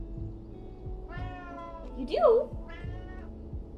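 A hungry cat meows once, a clear rising-falling cry near the middle, while a person talks briefly and background sounds continue.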